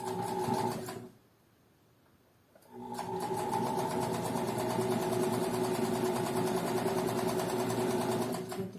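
A sewing machine stitches the side seam of a skirt, a steady mechanical whir running close and continuous, broken once by a short pause before it resumes.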